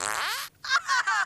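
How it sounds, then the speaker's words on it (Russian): A cartoon fart rips out loud and close, a long buzzing blast that stops abruptly, then after a brief gap a couple more sputtering bursts follow. "Да ты пукнул."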